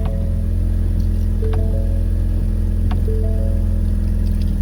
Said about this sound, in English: This is what it sounds like cold start.